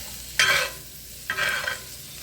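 Onions sauteing in an iron skillet, two separate bursts of hissing sizzle, each about a second long, with quieter low cooking noise in between and no talking.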